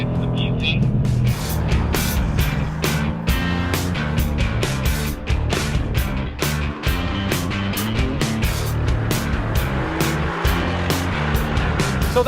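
A 2018 Mercedes-AMG GT C's engine and exhaust on a racetrack, loud and close with rising and falling revs and sharp crackles on gear changes, under a voice.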